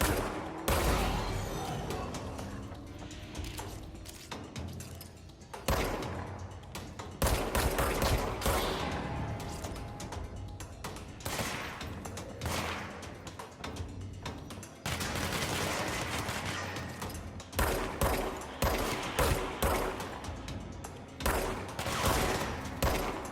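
Repeated gunfire in the game Control, rapid bursts of shots in clusters separated by short pauses, loud and close, with no talking.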